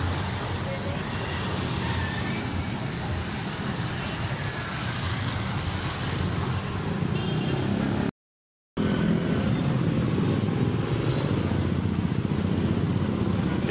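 Steady, dense street traffic in Catbalogan city, Samar, with tricycle motorbike engines and jeepneys droning continuously up close, a brief dropout midway, voices faintly mixed in.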